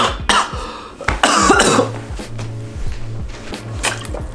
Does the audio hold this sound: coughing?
yes